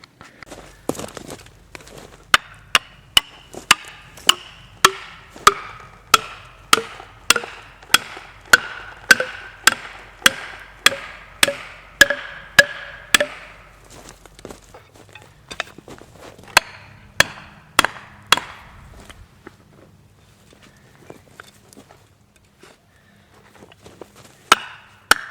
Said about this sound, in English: It's time to drive some wedges in before we go any farther with it.